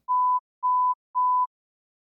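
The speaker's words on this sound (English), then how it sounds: "every time we hear a beep," Three identical pure electronic hearing-test beeps, evenly spaced, each lasting about a third of a second, followed by silence.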